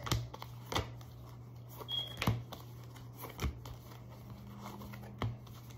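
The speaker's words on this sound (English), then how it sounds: "I don't think I shuffled this deck." A deck of cards being shuffled gives quiet, scattered riffles and flicks, a few sharp snaps spaced irregularly over a few seconds, close by.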